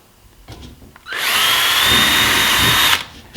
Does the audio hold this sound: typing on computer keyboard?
no